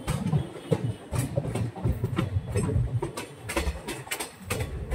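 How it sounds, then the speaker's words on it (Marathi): A Ganpati special passenger train near Diva station, on the run from Thane toward Sangameshwar, rolls along with steady clickety-clack wheel beats and a rumbling carriage roar, heard close from inside with no talk. "ट्रेननी स्पीड पकडली आता"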